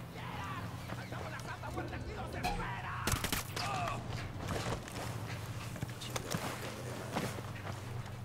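Submachine gun bursts from a narco gunman crackle in a Ghost Recon Wildlands firefight, delivered as scattered sharp volleys amid footsteps and background rumble, moderately loud, while voices talk over the action.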